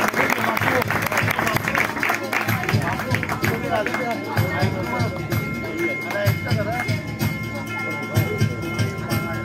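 Audience clapping at a community felicitation ceremony for meritorious students, a dense sustained patter of many hands through the whole stretch, with voices mixed in underneath.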